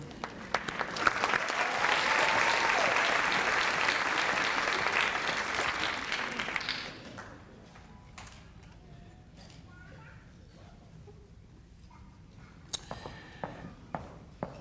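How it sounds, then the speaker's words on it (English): An audience at a teacher-of-the-year ceremony applauds warmly for about seven seconds, then the clapping fades into a quieter room with footsteps and occasional taps and knocks. "giving a round of applause to all 3 of these candidates"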